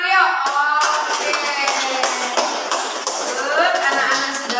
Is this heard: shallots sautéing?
no